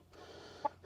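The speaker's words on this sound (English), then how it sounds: "Now, this is a rooster. Roosters ain't your normal chicken." A rooster in a chicken coop gives a single short cluck, faint and brief against a low steady background hum.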